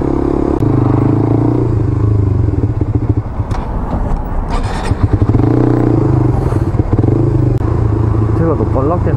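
A motorcycle ridden on a commute home, its engine droning loud and close throughout with a steady rumble and some clatter and scraping, while a rider talks over it.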